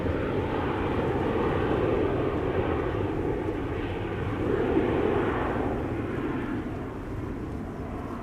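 KLM Boeing 737 jet departing Schiphol's Polderbaan runway for Lisbon: a steady, heavy, low engine roar, loud and continuous, swelling slightly midway with no talk over it.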